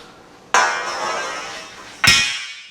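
A 1.5-inch metal tube is pulled down in a workshop, giving two sharp metallic clanks, each ringing out and slowly decaying, with the second strike louder and brighter.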